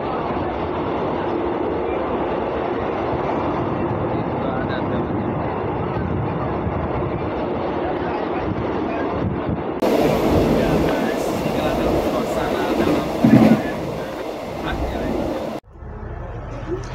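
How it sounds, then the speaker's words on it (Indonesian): Steady rumble and rush inside a moving passenger train travelling from Hatyai to Padang Besar, continuous and loud with a brief bump midway and a drop in noise near the end. "Inilah kondisi di dalam kereta"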